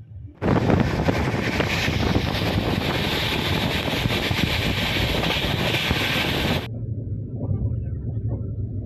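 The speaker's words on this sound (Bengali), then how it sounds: "ট্রেন জাস্ট আনন্দ বিহার ক্রস করছে।" A loud, steady roar of the Howrah–New Delhi Rajdhani Express rushing along the tracks past Anand Vihar, rumbling continuously for several seconds before dropping abruptly to a quieter hum.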